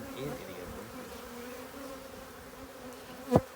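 Honeybees inside an open hive during an inspection give off a steady, low insect hum that runs throughout, with a brief sharp rustle near the end.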